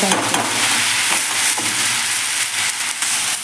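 Okra (bhindi) masala fries over a medium gas flame, hissing and sizzling steadily with occasional stirring scrapes in the pan.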